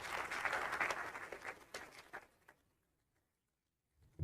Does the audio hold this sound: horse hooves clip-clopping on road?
no